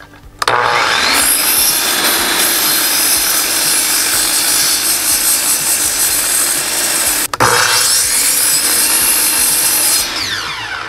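A saw cuts a 1.5-inch-deep notch into wood for a 700-gallon aquarium tank stand, giving a loud, steady grinding rasp for about ten seconds with one brief break near the end.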